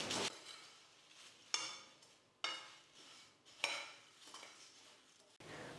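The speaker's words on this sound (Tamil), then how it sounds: "பொரியோடு சேர்த்து எல்லா மசாலாவையும் நல்லா கலந்து கொடுத்துக்கிட்டேன் பாருங்கள்" Puffed rice is tossed with masala spices in a pan, a spoon scraping and rustling through the dry mixture in several distinct strokes, each starting with a sharp clink, close and with no talking.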